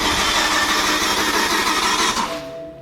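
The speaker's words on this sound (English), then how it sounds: "we'll crank it over with the crankshaft sensor unplugged" A BMW E60 M5 engine, with the crankshaft sensor unplugged and oil lines run dry, cranks over on the starter without firing. A loud, steady, close whirring churn runs continuously, then tapers off at the end.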